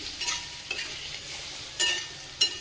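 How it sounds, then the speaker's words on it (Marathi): Raw mango pieces with chili powder being sautéed and stirred in a pan, giving a soft, steady sizzle broken by a few brief scraping stirs, with no talk. "कैरी व्यवस्थित परतून घ्यायची आहे।"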